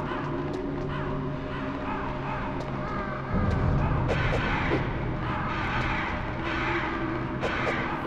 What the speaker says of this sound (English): If I kill these crows